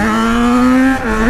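A Yamaha XJ6 motorcycle revs up hard in a loud, rising engine whine, briefly dipping at a gear change before climbing again, close to the rider.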